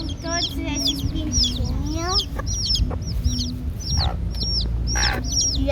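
Newly hatched chicks peep rapidly and continuously, high and close, while a hen clucks in low, repeated notes beneath them.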